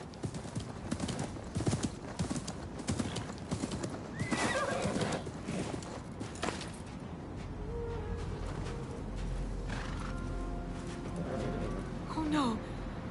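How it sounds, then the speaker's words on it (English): In Assassin's Creed Mirage, horse hooves clip-clop rhythmically and a horse whinnies, close and clear, while a voice speaks partway through. "Oh no! The Faha! My father's horse!"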